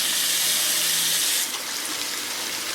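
Tap water running steadily into a salon sink while a perm is rinsed out of hair, a loud close hiss that drops slightly halfway through as the flow shifts.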